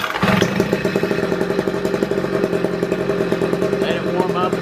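A 2-cycle string trimmer engine sputters to life on half choke and settles into a buzzing, rapidly pulsing idle, close and loud, with a voice talking over it.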